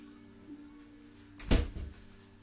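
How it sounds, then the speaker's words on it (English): A door closes indoors with a single firm thud and a short rattling knock just after, standing out against a quiet room with a faint steady hum. "I just want to close this door."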